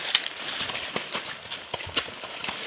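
Horse hooves clip-clopping along a rural road, a quick irregular series of close, crisp knocks with faint background noise.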